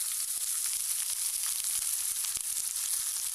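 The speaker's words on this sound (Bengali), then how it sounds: "এবার আমি এর মধ্যে দিয়ে দিচ্ছি বেগুন আর তার সঙ্গে দিয়ে দেব টমেটো কুচিটা" Eggplant and chopped tomato frying in a pan with oil, a steady, close hiss of sizzling with faint scattered crackles and no voices throughout.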